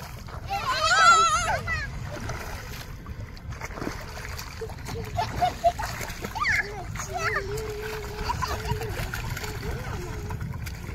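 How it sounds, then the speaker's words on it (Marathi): Children splash and play while swimming in a dam reservoir on a hot day, with a burst of splashing early on and lighter water sounds continuing under steady child chatter and adult voices. "कसं मजा येते ना मुलांना, गरमीमध्ये पोहण्याची मजाच वेगळी."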